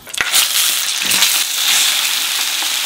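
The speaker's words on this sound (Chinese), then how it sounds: "先弄这个辣椒吧，辣椒煎的久一点" Chili peppers fry in a pan in a bedroom kitchen setup, giving a loud, steady crackling sizzle that holds throughout, with a few sharper pops near the start.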